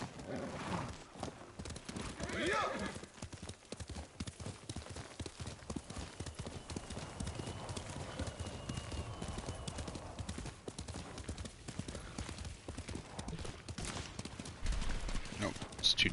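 Horse hooves clip-clop steadily through Ghost of Tsushima, the game's horse trotting in a continuous quiet rhythm with a faint neigh, low in level throughout.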